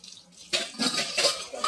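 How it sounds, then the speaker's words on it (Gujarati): Dishes being washed at a kitchen sink, with running water splashing and short bursts of clattering utensils that come and go, fairly close. "હું વાસણ ધોઉં છું"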